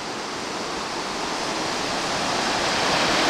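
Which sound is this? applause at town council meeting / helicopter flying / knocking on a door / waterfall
waterfall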